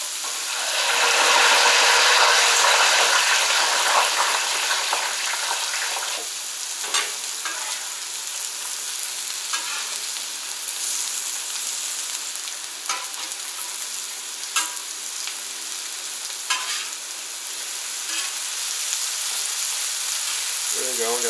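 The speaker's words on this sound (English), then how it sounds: "I'm going to go ahead and drop the fries." Fries dropped into hot oil on a Camp Chef outdoor cooker, a loud rushing sizzle at first that settles into steady bubbling frying with occasional pops and stirring clinks.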